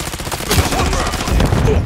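Sharp, loud gunshots ring out in a Call of Duty match, several quick overlapping cracks in a short dense burst, close and punchy with a faint voice underneath.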